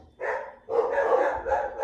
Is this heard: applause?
no